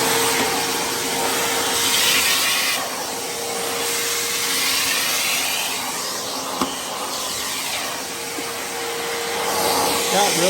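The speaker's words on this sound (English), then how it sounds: "Oh yeah, it's a good little vac." A small Stanley shop vacuum runs continuously at close range, a loud steady whine and rushing airflow with slight shifts in pitch as the nozzle moves and a brief knock partway through.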